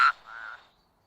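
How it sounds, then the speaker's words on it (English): A toad gives a single short croak, a quick sharp note followed by a softer trailing rasp that fades to silence. "Toad croaked"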